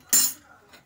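A spoon strikes a pot of water with a single sharp metallic clink as half a spoonful of salt goes in, followed by a softer second tap.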